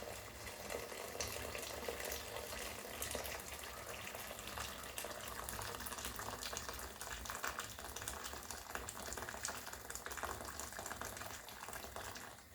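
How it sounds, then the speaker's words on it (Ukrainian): Boiling water pours from a kettle in a steady rushing stream, continuous and fairly close, with a hissing, bubbling quality throughout and no talking. "уже можно и кип'яток наливать"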